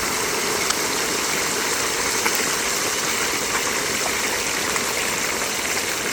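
A broad, continuous roar of hot oil churning and bubbling in a deep fryer while a turkey is eased down into it, close and steady, with scattered crackles and no voices.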